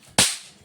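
A single Diwali firecracker bursts with a sharp, sudden crack and a short fading tail, heard close and loud, alone.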